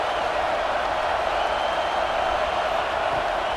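Continuous loud stadium crowd noise from a college football video game between South Carolina and Texas A&M, a constant dense roar holding level throughout.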